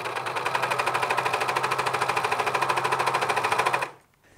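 A sewing machine runs a steady, rapid stitch along the back seam of a pair of men's joggers, close and loud for about four seconds before stopping abruptly into near silence.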